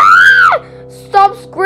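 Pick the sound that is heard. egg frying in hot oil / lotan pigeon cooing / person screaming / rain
person screaming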